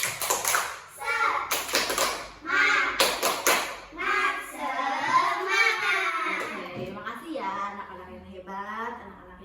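Schoolchildren in a primary school classroom doing a rhythmic spirit clap, sharp group claps in a patterned beat mixed with children chanting along.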